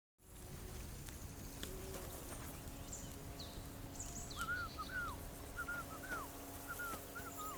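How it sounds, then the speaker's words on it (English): A character whistles in Kingdom Come: Deliverance II, a few short rising and falling notes in the later half, faint over a quiet outdoor game ambience of insects and birds. "Your whistling is getting on my fucking nerves the whole way."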